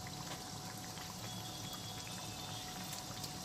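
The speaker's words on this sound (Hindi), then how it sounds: "धीमी आंच में इसको अच्छे से क्रिस्पी होने तक इसको फ्राई करेंगे" Onion kachori deep-frying in oil over low heat, a steady continuous fizz and gentle bubbling sizzle that holds at an even level throughout.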